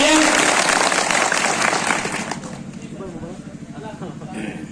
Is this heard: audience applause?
yes